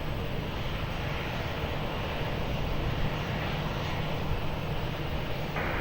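An Airbus A321 departing Lisbon Airport throws out a continuous, broad engine roar, loud and unchanging across the whole stretch.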